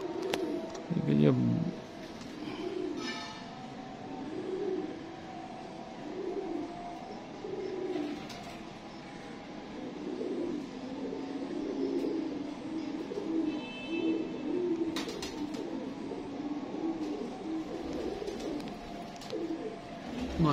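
Reshma breed pigeons, older birds in a loft, coo in soft repeated low rolling calls through the whole stretch, with a voice talking over them and a brief sharper bird call near the start.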